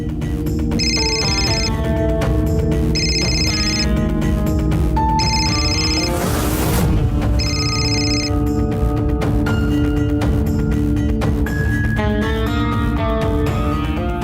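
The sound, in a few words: phone ringing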